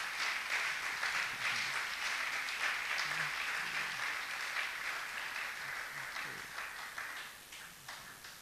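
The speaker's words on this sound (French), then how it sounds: "au nom de notre Seigneur Jésus, que nous acclamons très très fort." A church congregation applauds and cheers in a sustained wash of clapping and voices that slowly fades toward the end.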